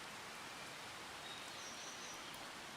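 Steady rain in the Farming Simulator 25 farming game hisses as a soft, even broadband wash throughout, faint and continuous with no talk over it.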